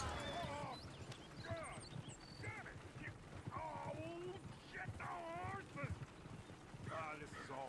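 Horse hooves clip-clop steadily in Red Dead Redemption 2 at a camp, mixed with game ambience. Voices talk over the hoofbeats throughout.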